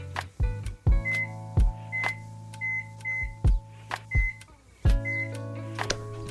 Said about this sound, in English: the first thing I'm going to do is actually set a timer on my microwave